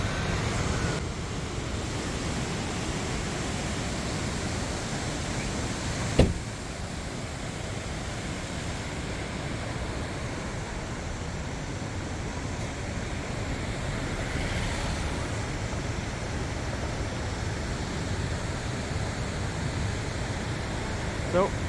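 A steady, full roar of falling water from a waterfall fills the whole stretch, constant and close, with wind buffeting the microphone and someone speaking briefly over it.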